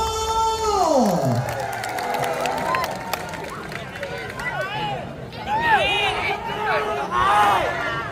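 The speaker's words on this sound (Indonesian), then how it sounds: "beri tepuk tangan yang meriah" A crowd at a volleyball semifinal match roars and cheers steadily, with sliding whistle-like tones and shouting voices rising through the dense, loud din.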